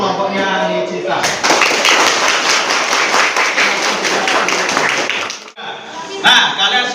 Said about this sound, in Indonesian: Kita beri aplaus yang meriah untuk kelompoknya Nicita.